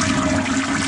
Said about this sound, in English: when they flush the toilet